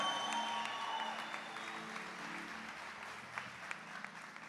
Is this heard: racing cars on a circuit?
no